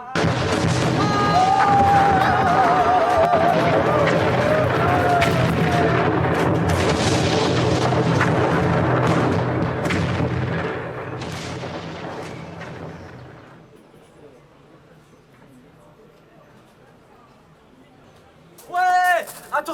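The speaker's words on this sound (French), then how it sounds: "Mais c'était une explosion, mon Dieu" Artillery fire of the Versailles army in a radio drama about the Paris Commune: loud continuous booming explosions with voices over them, fading to quiet, then a short burst of sound at the end.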